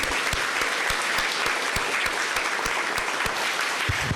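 Loud, dense applause from a large audience, steady throughout, with some sharp individual claps standing out.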